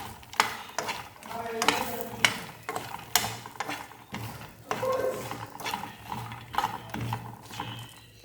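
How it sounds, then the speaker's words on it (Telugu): Makhana (lotus seeds) are stirred in hot oil, with a soft sizzle beneath repeated clattering scrapes and knocks of a spoon against the pan in an uneven rhythm. "ఇప్పుడు మనం ఈ మక్కన అయితే ఈ ఆయిల్లోకి వేసుకుందాం. వీటిని ఒకసారి కలుపుకుందాం."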